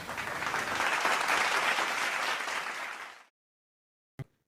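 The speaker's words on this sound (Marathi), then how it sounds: "टाळ्या" Villagers clapping for a newly elected village head, a dense burst of applause lasting about three seconds before cutting off abruptly, followed by silence and one brief knock.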